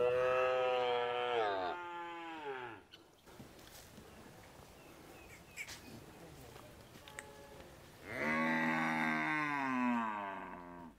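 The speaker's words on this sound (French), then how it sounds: "Tenaillé par la faim, le veau est incontrôlable, tout comme la vache qu'on doit traire." Hungry calves and cows in a large enclosure before milking give long, loud, wavering moos, one drawn-out call at the start and another near the end, with rustling and faint movement between.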